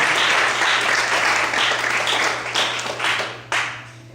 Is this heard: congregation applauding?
yes